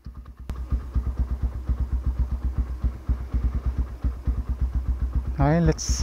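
A motorcycle engine idles close by before a night ride, a steady low throbbing pulse with a slightly uneven rhythm, and a brief voice cuts in near the end.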